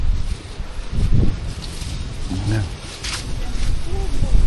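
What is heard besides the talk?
wind blowing outdoors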